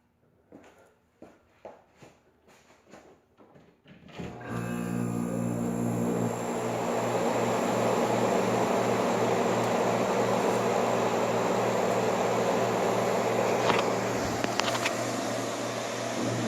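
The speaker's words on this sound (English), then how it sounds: "I guess I'll go and show the compressor startup" A 1958 Carrier 4,500 BTU portable-style window air conditioner starts up. A few soft clicks come first, then a loud, steady mechanical drone and hum sets in and holds close and constant.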